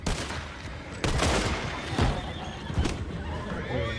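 Horses neighing and whinnying aboard a boat in Red Dead Redemption 2, loud and close, with sharp bursts that may be gunfire and a steady background din.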